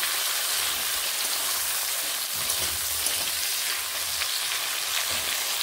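Chopped tomatoes tossed into hot oil for a pabda fish curry, a dense, constant frying hiss like heavy rain with faint stirring knocks underneath, no voices.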